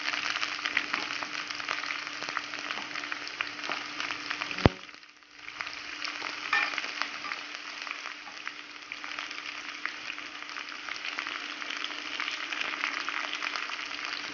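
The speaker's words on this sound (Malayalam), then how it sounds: "ഇനി ഇതിലേക്ക് അരിഞ്ഞു വെച്ചിരിക്കുന്ന ചുവന്നുള്ളി അല്ലെങ്കിൽ സവാള ചേർത്ത് കൊടുക്കാം" Chopped shallots or onion fry in hot oil in a pan for a Kerala-style prawn curry, making a continuous crackling sizzle that holds steady throughout, broken once by a sharp click and a brief dip, with no speech.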